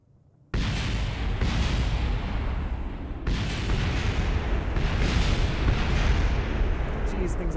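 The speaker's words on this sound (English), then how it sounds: "Jeez, things are exploding." Rocket parts blowing apart in Kerbal Space Program, a loud, sustained roar of explosive rumble that bursts in abruptly and continues with repeated surges, dense and booming throughout.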